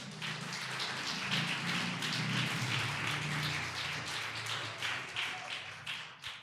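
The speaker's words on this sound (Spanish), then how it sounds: "Le damos una ofrenda de palmas al Señor." A church congregation claps together during a sermon, giving a sustained, dense patter of many hands at fairly even loudness with no talk over it.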